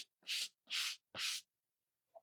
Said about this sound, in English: Now I need a yellow sander.